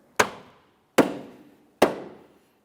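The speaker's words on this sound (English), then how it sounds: "let's go ahead and give this a loving bonk to drive it in" Three sharp, evenly spaced knocks as a tail light is tapped into place on a 2002-2006 Honda CR-V, each a crisp plastic thump with a short decay, close and alone.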